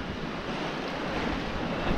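Steady broadband rush of open-ocean swell and wind at sea, heard aboard a small sailboat on a single-handed Biscay crossing from Ireland to Spain, with continuous wind noise buffeting the microphone and no voices.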